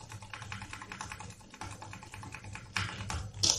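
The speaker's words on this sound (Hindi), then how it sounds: "अपने कंप्यूटर से कीबोर्ड से मैं कंटिन्यू डेल की प्रेस करता हूँ" Computer keyboard key pressed over and over in quick, steady taps while a PC boots toward its BIOS settings, moderately close and alone with a low background hum.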